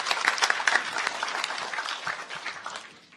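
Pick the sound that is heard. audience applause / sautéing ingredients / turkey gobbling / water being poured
audience applause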